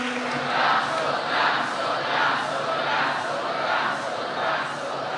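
A church congregation at a Good Friday service clapping and calling out praise together, a dense swelling crowd roar that rises and falls in waves.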